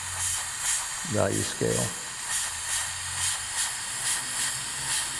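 An airbrush hisses steadily while spraying paint on a biomechanical artwork, the hiss rising and falling in short pulses as a voice speaks briefly over it.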